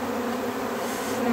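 A steady, close hum of buzzing red bees, continuous and unbroken with no voices.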